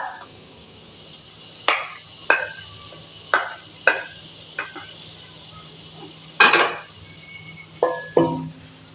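Onion sautéing in about two spoons of oil in a small kadhai, a low steady sizzle punctuated by repeated sharp metallic spoon clinks and scrapes against the pan, close and fairly loud, no speech.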